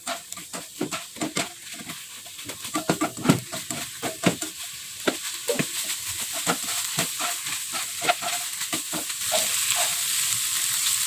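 Spices for Johor laksa stirred and frying in a pan: a steady close sizzle with repeated sharp scraping strokes of a utensil, growing a little louder toward the end, with no talking.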